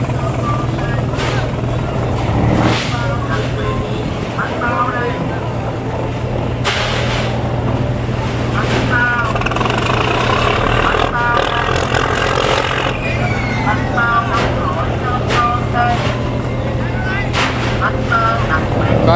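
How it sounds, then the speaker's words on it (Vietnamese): A large purse seine fishing boat from Binh Dinh, about 7 metres wide and 25–27 metres long, comes into port at Da Nang. Its engine drones as a steady, loud, low hum throughout, with scattered voices and harbour noise over it. "Có chiếc lưới bao đang vào kìa."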